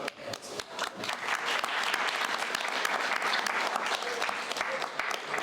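An audience at a panel discussion bursts into sustained applause, dense overlapping claps building quickly and holding steady at a moderate distance.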